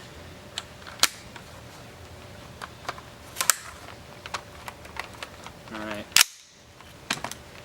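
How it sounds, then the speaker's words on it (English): The action of a Stag Arms AR-15 is cycled by hand with dummy rounds, giving close, sharp metallic clacks and snaps at irregular intervals, with brief speech. "load up a mag with a few dummy rounds just to make sure everything cycles right and that the extractor extracts"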